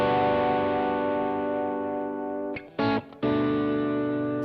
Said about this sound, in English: So I'm just going to solo one of these guitars and just going to play a couple of bars.